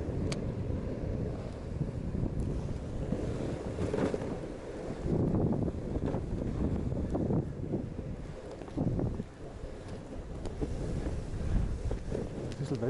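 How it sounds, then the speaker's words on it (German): Gusty wind buffeting a microphone while snowkiting in Obertauern on a hazy day, a constant loud rumbling roar with surging swells and no voices. "Und es ist böig, manchmal reißt es nämlich ganz schön."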